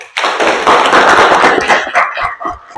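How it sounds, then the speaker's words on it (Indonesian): Classroom applause for a sociology lesson, a dense burst of many hands clapping that starts sharply, holds for about two seconds and then thins into a few scattered claps. "Beri tepuk tangan ya."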